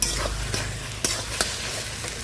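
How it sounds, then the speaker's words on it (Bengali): Onions fry in hot oil for biryani, a continuous sizzle with a few sharp scrapes and clinks of a spatula against the pan, close and alone without talk. "এপাশে বিরিয়ানির জন্য বেরেস্তা ভেজে নিয়েছি, প্রায় হয়ে গিয়েছে।"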